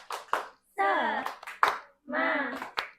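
Primary school children in a second-grade class do a rhythmic spirit clap with their teacher, short bursts of sharp claps alternating with chanted group voices in a patterned call-and-clap sequence.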